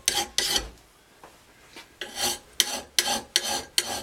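A hand file rasps across a lawnmower blade to sharpen it and remove burrs, in close, rhythmic strokes: two quick passes, a pause with faint scrapes, then a run of five steady, evenly spaced strokes.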